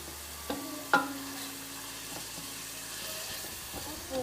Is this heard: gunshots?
no